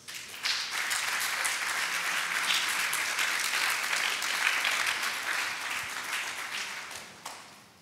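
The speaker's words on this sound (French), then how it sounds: "Et ça s'applaudit." Sustained audience applause fills the room at a ceremony honouring a Cameroonian bishop, a dense steady clatter of many hands that swells quickly, holds evenly, then tapers off near the end.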